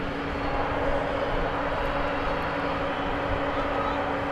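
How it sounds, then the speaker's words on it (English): Frontier airliner, Flight 3283 to Phoenix, at DFW Airport at night, producing a steady, broad jet engine roar at moderate distance. "There's Frontier Flight 3283 going to Phoenix."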